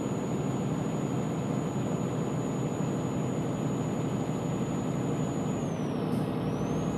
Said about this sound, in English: I know it's the turbo whistle